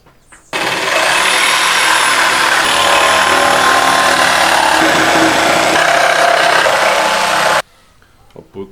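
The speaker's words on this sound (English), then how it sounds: "I'll just cut these extra pieces to size using the jigsaw" A power jigsaw cuts wooden pieces for a chicken trap in one steady, loud, buzzing run of about seven seconds, starting and stopping abruptly with quiet before and after.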